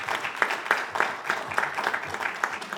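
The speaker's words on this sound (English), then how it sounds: "So let's give yourselves a round of applause." A small audience at a political candidates' event gives a short round of applause, with loose, distinct handclaps and sharp individual hits standing out over a thin clapping bed.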